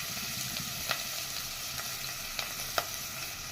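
Sliced onions frying in hot oil with spices in a pressure cooker for Bangalore-style mutton donne biryani, a steady close sizzle with a few sharp pops and crackles scattered through it.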